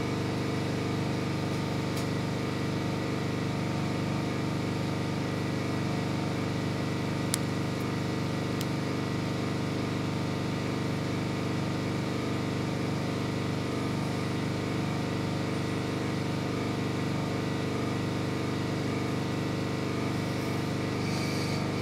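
A polishing wheel runs steadily while buffing an abalone shell ring, giving a continuous even motor whine and hum throughout, close and loud, with a couple of faint brief ticks and no talking.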